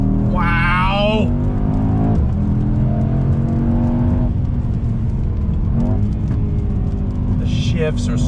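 A 2021 Mercedes-AMG E63 S performance wagon revs loudly nearby, engine pitch climbing and dropping through quick gear shifts, with exclamations from people underneath the engine noise.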